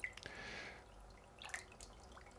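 Water rinses through a small aquarium water test kit vial, giving faint, brief splashes and drips that come in a few short bursts.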